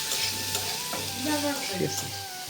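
Raw chickpeas, soaked beforehand, fry in a pan with a steady, close sizzle, while a spoon scrapes and stirs them in a few repeated strokes.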